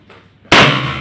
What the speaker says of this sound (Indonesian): Kemudian coba kita tembakan, awas ya, yang kaget ya